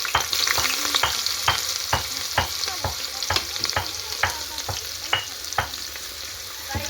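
Garlic frying in hot oil for a biryani, stirred with a spoon: a constant close sizzle punctuated by regular, quick scraping strokes against the pan, roughly two per second, with no talking.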